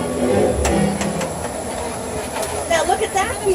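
Studio tour tram rolling on rails, with rumbling wheels, rhythmic clacks and rising squeals near the end, while a tour guide's amplified voice talks over it.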